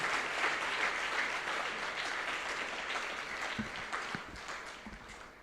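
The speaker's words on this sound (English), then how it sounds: "Can we give a big, big round of applause to our platinum sponsor" A crowd claps steadily throughout, a dense wash of applause that slowly tapers slightly toward the end, with no talking over it.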